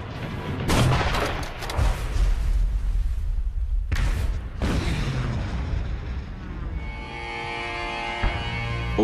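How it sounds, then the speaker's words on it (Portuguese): Heavy naval gunfire thunders during a sea battle off Guadalcanal, loud booms and bursts rolling out in overlapping blasts before fading into a lingering rumble. "Ouvimos o estrondo das armas."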